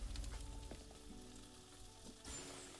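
Meat sizzling in a pan on a stove burner in Chef Life: A Restaurant Simulator, a faint continuous frying hiss with light clinks, growing briefly brighter near the end.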